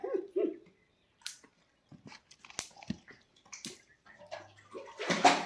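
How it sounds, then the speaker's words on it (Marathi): Water poured onto dry farm field soil, splashing in short, uneven bursts with brief crackling pops between quiet gaps, close by. "पाणी टाकल्यावर इथून माहित नाही तळातळ आवाज येत आहे"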